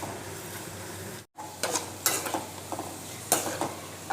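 Ginger and tamarind mixture cooking in a pan for a ginger tamarind chutney, a soft steady sizzle with a few scraping stir strokes, a brief gap and then irregular spatula scrapes up close, no talking.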